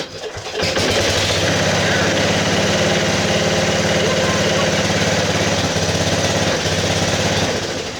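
A 1968 Bolens EK-10 Estate Keeper garden tractor engine runs steadily and loudly after starting, a continuous chugging drone with a slight rhythmic pulse throughout.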